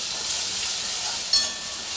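Grated ginger frying in a hot pan for shyama rice khichuri, a steady close sizzle with one brief clink partway through, no voices.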